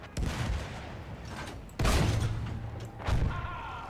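Dynamite blasts in the World War I shooter Battlefield 1, with two heavy booming explosions at about two-second spacing, the second followed by a smaller burst, over constant battle noise.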